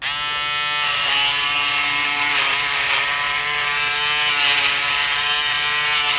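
Close, steady buzzing hum of a Braun Series 5 5035s rechargeable electric shaver running continuously, its pitch wavering slightly as it moves across stubble.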